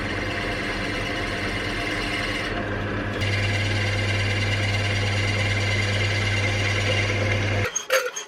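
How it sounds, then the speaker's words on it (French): A drill bores a 10 mm hole in a guitar part, a steady close motor whine with grinding texture that deepens partway through as the bit bites, then cuts off abruptly near the end. "Maintenant, ce qu'on va faire, c'est que je vais percer à 10 ici."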